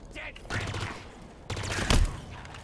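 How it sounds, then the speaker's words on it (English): A loud explosion in the video game Halo Infinite booms out with a sharp burst near the end, amid continuous gunfire and game noise. "Oh, that was a big explosion."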